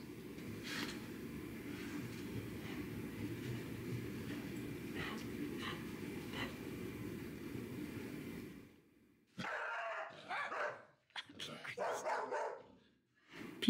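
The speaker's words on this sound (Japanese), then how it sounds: "すぐ吠えるんだよ、うるさい。" A Nova Scotia Duck Tolling Retriever barks indoors in several sharp, close bursts near the end, following a stretch of steady low rumbling background noise.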